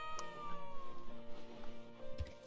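A pet cat meows in the farming life game My Time at Portia, with a few short mews over a steady bed of game music, fairly close and clear.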